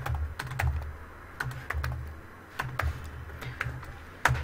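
Code being typed on a computer keyboard for a Python tutorial: scattered key clicks come in short irregular bursts with pauses between them, close and fairly quiet over a low background hum.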